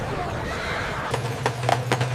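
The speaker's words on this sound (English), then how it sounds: "Horse-drawn carriages now dominate the streets, their rhythmic hooves a sound of the past." Horses in a busy 1905 Times Square street, with a whinny and hoof clops of horse-drawn carriages rising over a steady low rumble of street noise in the second half.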